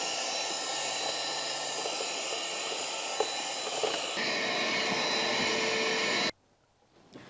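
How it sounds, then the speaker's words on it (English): A small handheld vacuum cleaner sucks loose bits out of the airbox of a 2007 Ford Ranger / Mazda BT50. Its loud, steady whine drones close by, shifts pitch partway through, then cuts off abruptly, leaving near-silence. "There's a few bits and pieces in the bottom of my airbox, so I'm just going to suck them out with this little vacuum cleaner."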